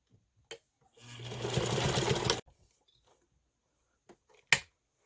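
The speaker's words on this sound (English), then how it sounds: "And then I like to sew the edges down." A sewing machine stitches down fabric edges on a scrap-buster clutch with a D-ring in one steady run of about a second and a half, set between a couple of sharp clicks, close and moderately loud with no talking.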